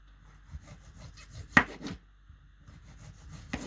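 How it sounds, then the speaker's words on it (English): A knife cuts thin slices from a ripe pear on a board, giving soft rasping strokes in short bursts, with a sharp tap of the blade partway through and another at the end. "And then I'm going to thinly slice this into"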